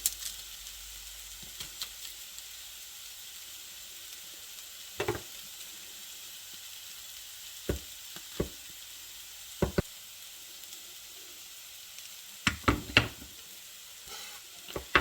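Carrots and onion sizzle in a pan on the stove, a soft steady frying hiss running throughout with a few sharp knocks and utensil clatters scattered across it.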